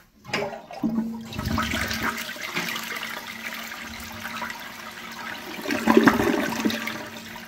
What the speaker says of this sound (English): Let's have a look at a flush, shall we?